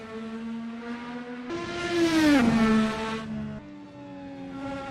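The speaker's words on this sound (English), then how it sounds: "Car sounds great." Dallara F3 open-wheel race car in the Assetto Corsa racing sim, its engine droning steadily, then rising sharply in pitch under hard revving before dropping back to a lower hum, with no voices.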